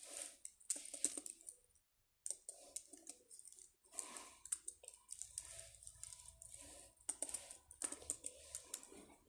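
Rapid clicking keystrokes on a computer keyboard while a player name is entered in a Minecraft-style game, quick irregular bursts with a short pause, close and fairly quiet, without talk.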